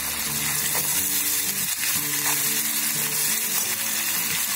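Crushed ginger and curry leaves fry in hot oil over a low gas flame, a steady loud sizzle that continues without a break, with faint stirring underneath and no voices.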